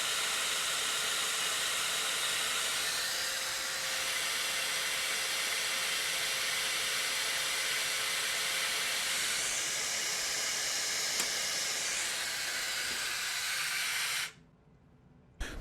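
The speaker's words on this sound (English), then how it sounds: "I'm using compressed air to get rid of the chip right away off the machine" Compressed air hisses loudly and steadily, blowing chips off a PVC part on a machine during cutting. The broad, close rush lasts about fourteen seconds, then cuts off abruptly.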